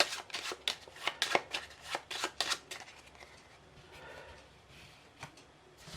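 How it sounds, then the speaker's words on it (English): Playing cards being shuffled by hand for a beginner's card trick, a run of quick crisp riffling bursts followed by softer sliding and rustling, close and fairly quiet with no talking. "I'm then going to shuffle the cards up."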